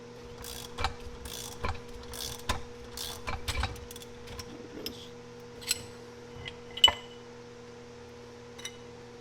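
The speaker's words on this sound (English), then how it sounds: "I've got a 1/2 inch with 3/8 ratchet" A 1/2 inch ratchet with a 3/8 adapter and a 13/16 socket works a fitting on a G-body El Camino power steering bracket: sparse ratchet clicks and metallic clinks, fairly close, over a steady low hum.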